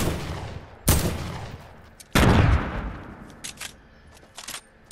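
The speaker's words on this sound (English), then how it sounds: "I'm gonna shoot where he's at." Gunfire in the Fortnite video game: two loud booming shots with long decaying tails, followed by fainter scattered pops and clicks, no talk.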